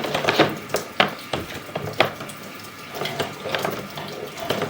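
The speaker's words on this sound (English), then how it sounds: "So we just need to run a bunch of water down it." Water runs and splashes down a drain line that is being cleared of a softening blockage, a continuous close trickle broken by irregular louder gushes and splatters.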